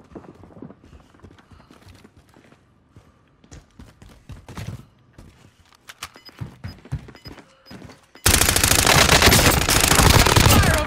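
Gunfire in a battle royale video game: scattered shots and thuds at moderate level, then a sudden loud, continuous burst of rapid automatic fire filling the final seconds.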